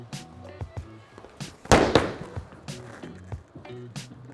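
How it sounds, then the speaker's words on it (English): Bowling ball crashing into pins at a bowling alley, a sharp clattering burst near the middle followed by scattered knocks and rattles, with faint alley noise throughout. "Sounded like pins."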